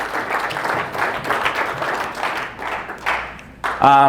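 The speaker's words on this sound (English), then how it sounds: "they actually deserve a great round of applause" A conference audience applauds a business speaker, a dense wash of clapping that runs steadily and loudly for about four seconds before giving way to a sharper sound at the end.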